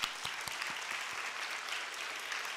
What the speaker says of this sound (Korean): 우리 큰 축복의 박수 한번 부탁드리겠습니다.